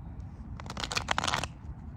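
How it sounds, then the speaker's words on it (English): Tarot cards being shuffled, a quick burst of crisp riffling flutters lasting under a second, close and quiet with nothing else around. "a bunch of cards just fell out while I was shuffling"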